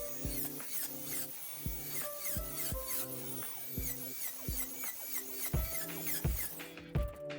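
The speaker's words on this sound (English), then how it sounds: "So I will just cut the tabs and then sand all the edges." A small power tool whines and buzzes steadily while cutting the tabs off handmade coasters, with repeated sharp cuts and brief pauses in an even, close-up rhythm.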